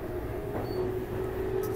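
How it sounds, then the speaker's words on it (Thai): The interior of a moving train in Akihabara, Tokyo, carries a steady low rumble of wheels on track with a faint high squeal running through it. "ตอนนี้นั่งรถไฟแล้วครับ"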